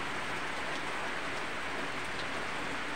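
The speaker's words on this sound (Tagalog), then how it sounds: "dahil may bagyo, kaya tayo ay napagkalooban ng ulan" Heavy typhoon rain pours steadily in a dense, continuous hiss with no breaks and no voices.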